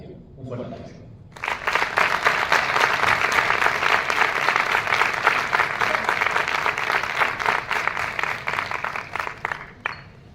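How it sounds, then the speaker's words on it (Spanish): An audience at an ex-alcoholics' association event in Fuenlabrada breaks into loud, sustained applause for about eight seconds, with a voice briefly heard just before it starts. "Un fuerte aplauso."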